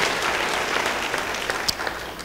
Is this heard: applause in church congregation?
yes